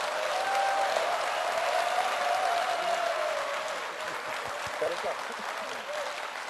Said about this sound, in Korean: 두 분에게 박수 한번 다시 한번 부탁드리겠습니다